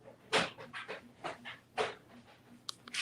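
Two dogs play on an indoor floor, one dragging the other, giving bursts of panting, scuffling and scraping with short whimpers at irregular intervals, close and fairly loud.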